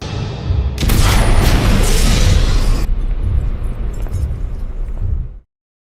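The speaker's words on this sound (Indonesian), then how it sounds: "mereka pun sempat meledakkan tempat itu" A building is blown up in a film, bursting into a loud, close boom with a crackling roar that rumbles for a couple of seconds, then a lower rumble of debris that trails on before cutting off abruptly.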